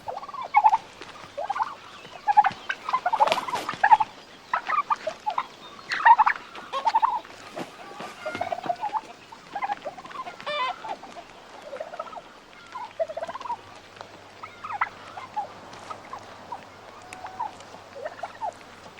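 Turkeys in a farmyard gobble repeatedly in rapid, overlapping bursts, loud and close, with scattered clucks and rustling between calls.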